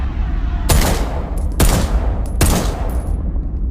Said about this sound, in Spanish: son velozmente aplacados con una serie de disparos de su pistola